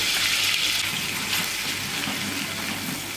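Dried mint sizzling in fully melted hot fat in a pan for yayla soup: a steady, close, hissing crackle that holds at an even level throughout, with no talking.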